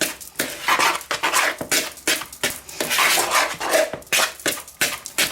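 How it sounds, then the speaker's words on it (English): A knife scrapes and clatters around a bowl while mixing mince pie dough with eggs, a rapid, irregular run of close clinking and scraping strokes with no talk. "Try and mix it first of all as much as you can with a knife"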